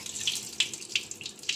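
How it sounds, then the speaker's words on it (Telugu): Water poured off freshly washed leafy greens, splashing and trickling in a light, irregular stream with a few brighter spattering bursts, fairly faint and close, no voices. "ఇలా నీళ్ళు అయితే వంపుకోవాలి."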